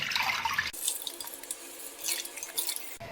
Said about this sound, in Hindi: तो हम इसे पानी के साथ ही कढ़ाई में डालेंगे, ये पानी फेंकेंगे नहीं।